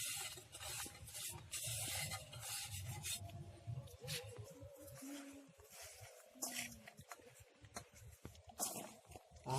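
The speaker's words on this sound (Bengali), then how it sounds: "আচ্ছা আমরা এই মশলাটা কামরাঙ্গার মধ্যে দিয়ে দিলাম এটা আমরা মাখিয়ে নেব" Hands mixing spice paste into sliced star fruit (kamranga) in a village-style picnic dish, giving close, wet rubbing and squelching with a few brief tonal bits of background noise and no clear talk.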